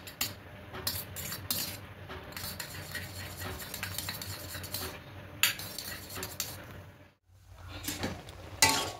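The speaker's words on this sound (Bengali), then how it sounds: "এবার খুব ভালো করে এটা মিশিয়ে দেব" Pasta tossed with tomato sauce is stirred in a pan, a utensil clinking and scraping against the metal in repeated close strokes over a faint sizzle, with a short pause near the end and no talking.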